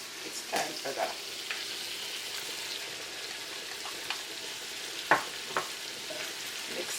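Callaloo sizzles steadily in a pan with tomato and onion for a Jamaican dish, a continuous crackling fry with a few sharper pops and spatters scattered throughout.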